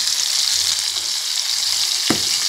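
Tomato pieces fry in oil in a pan for pudina tomato pachadi, a steady, close hiss of sizzling with one brief stir clatter near the end.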